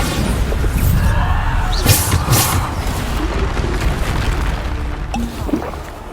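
The Bombarda explosive spell from Hogwarts Legacy on PS5 bursts with a loud, deep rumbling blast that keeps roaring and crackling for several seconds, with scattered debris pops and no speech over it.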